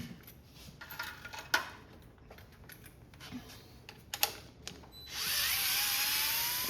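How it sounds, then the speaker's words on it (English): Small star-head screws are worked loose from a Lowrance Ghost trolling motor head, giving faint scattered clicks and ratcheting taps, followed by a brief louder hiss near the end, with no talk. "You've got to take all these screws all the way around this off."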